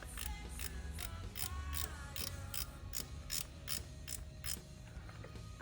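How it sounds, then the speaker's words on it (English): An 8mm ratchet spanner clicks in quick, regular bursts while working a fastener on a Honda Grom MSX125 motorcycle, the pawl ticking crisply and close in a quiet space. "An 8mm ratchet in spanner."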